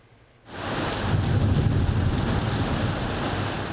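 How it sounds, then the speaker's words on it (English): Heavy overnight rain in Hong Kong during a severe thunderstorm starts abruptly after a brief quiet moment, then pours steadily as a dense, loud roar that continues to the end. "heavy rain pours across the city"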